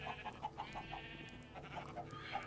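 Chickens in a Minecraft-style farm pen, crowded in with cows, piglets and sheep, give repeated short clucks in a steady rhythm, close and moderately loud over a dense, busy animal background.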